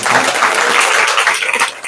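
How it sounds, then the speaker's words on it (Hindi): An audience at an evening Harikatha gathering in Holland breaks into brisk, close applause, a dense continuous patter of hands filling the short moment. "थोड़ा ताली लगाओ है।"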